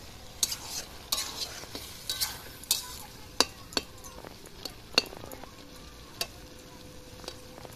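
Eggs sizzle in a karahi with bottle gourd while a utensil stirs and scrapes, sharp metallic clinks punctuating a soft, continuous frying hiss.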